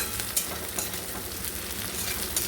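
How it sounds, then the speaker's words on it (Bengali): Chopped onions with cumin fry in hot oil for a potol dolma with masoor dal, giving a steady, close, crackling sizzle with occasional sharper pops and no voices. "এবার পেঁয়াজটাকে ভেজে নেবো"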